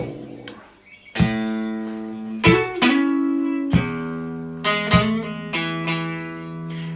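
Electric guitar plays a bar of a song intro, a few strummed and plucked chords ringing out with slides between them, close and clear.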